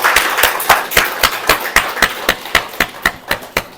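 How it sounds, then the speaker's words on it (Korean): A congregation at a Korean church service claps in unison to give thanks, sharp, regular beats about four per second that sound loud and close, with no talking over them. "우리 식구님께서 온 마음을 다해서 천지인 참보호님께 감사의 박수 한번 올려주시면 좋겠습니다"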